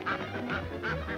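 Cartoon ducks from Tex Avery's 1940 Wacky Wildlife, in a hunting sketch, give a quick run of four honking quacks, close and clear.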